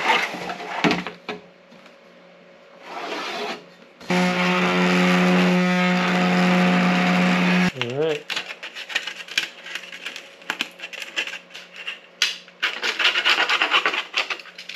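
A saw cutting down a long plastic trim piece from a truck camper roof, a loud sustained rasping stroke in the middle with irregular scraping and handling noises around it, no talk.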